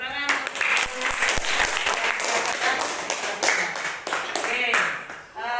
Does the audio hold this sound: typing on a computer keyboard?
no